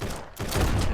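Shotgun blasts in a zombie survival video game: a loud, booming burst fills the clip, dipping briefly before a second heavy blast that carries through to the end, with no talking.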